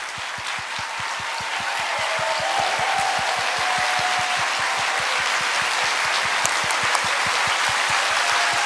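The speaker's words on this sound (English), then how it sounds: "Once again, a big round of applause, ladies and gentlemen." An audience at a World Environment Day event applauds after a soprano and children's choir performance, with steady clapping over a regular low thumping beat.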